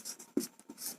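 Chalk or marker scratching across a classroom board in short bursts of hissy strokes, with a few soft taps, close and fairly quiet with no talking.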